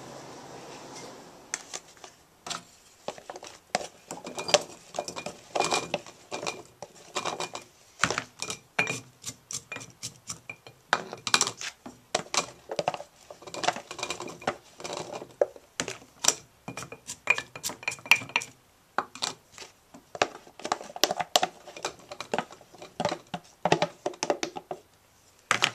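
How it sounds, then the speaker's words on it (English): Ingredients for brine pickling are packed by hand into a clean, wide-mouthed glass jar, giving a steady run of close, dry clicks, taps and shuffling knocks with short pauses. No one speaks. "Fill a clean, wide-mouthed jar with the recipe ingredients, packing as you go until you get 2 inches from the lip."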